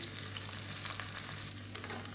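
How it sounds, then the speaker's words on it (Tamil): Onions sautéing in a pan for parotta salna, a steady bright sizzle with soft crackles running evenly throughout, close and continuous with no talking. "இப்போ வெங்காயம் நல்லா வதங்கிடுச்சு"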